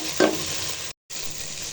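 Carrot, capsicum and cabbage stir-frying in a hot pan give a steady, close broadband sizzle, with one brief louder stirring scrape near the start and a short dropout midway.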